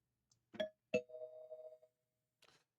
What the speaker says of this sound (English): Spoiler alert bell is in effect.